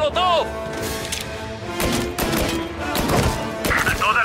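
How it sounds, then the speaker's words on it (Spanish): Gunfire crackles in Mafia: Definitive Edition, loud bursts of shots and impacts in rapid succession over a busy, dense game soundscape. "Todas las unidades, se han oído disparos."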